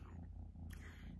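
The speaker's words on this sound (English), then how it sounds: "You might hear her purring in the background too." A cat purrs softly and continuously, a low rumbling vibration close by but faint, with a brief rustle partway through.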